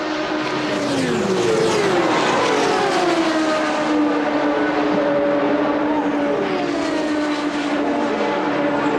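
Indy 500 race cars at speed in 1992, engines screaming in loud continuous pass-bys with rising and falling pitch sweeps as several cars roar past close by, no talk over them.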